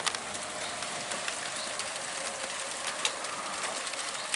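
Pigeons or doves coo softly during a thunderstorm in Okehampton, their quiet calls recurring over a steady hiss of rain falling on surfaces nearby.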